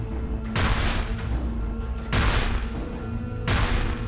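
Three heavy shotgun blasts from the video game Cryptark boom out at roughly even intervals, each a loud, broad burst with a rumbling tail over a steady low game hum.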